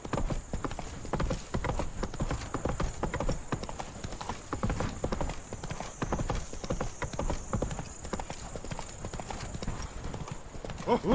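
Hooves of Roach, a horse in The Witcher 3: Blood and Wine, clip-clopping in a brisk continuous rhythm close by, with a faint steady tone running underneath.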